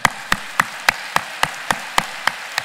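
Claps ring out in a church during a Korean prayer gathering, about ten sharp, evenly spaced beats, loud and close against a quiet background.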